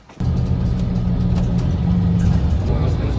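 A bus ride heard from inside the vehicle, a loud steady low engine rumble and road noise that starts abruptly and holds constant throughout.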